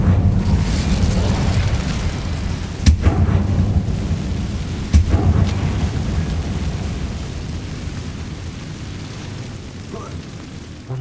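Incendio fire spell cast in Hogwarts Legacy, a dense roaring whoosh of flame with a couple of sharp bursts, loud and sustained over a low rumble, with a voice speaking over it.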